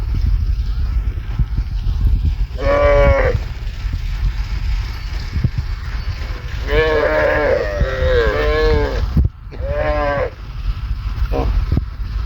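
Cows and calves moo in several drawn-out, overlapping calls, some close and loud, with rustling and background noise between the calls.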